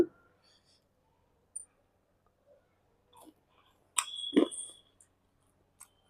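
Crunchy bites into crispy oil-less fried fish, a few close crackling chews in short bursts with quiet pauses between.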